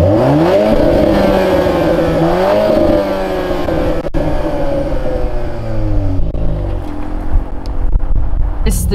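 A Volkswagen Golf R Mk8 in R driving mode pulls hard through an industrial estate, its engine climbing loudly in pitch through the gears, with short dips at the shifts, close and continuous throughout.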